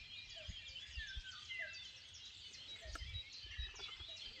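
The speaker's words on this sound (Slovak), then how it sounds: "Teraz opäť tá kukučka." A common cuckoo calls by a lake, its faint, distant notes repeating every second or so over dense, high chirping of other birds.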